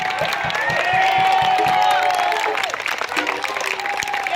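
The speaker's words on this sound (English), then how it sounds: "Please give a round of applause to the people putting this event on right now." A festival crowd claps and cheers for event organizers, dense applause with whoops and voices mixed in, holding steady before thinning toward the end.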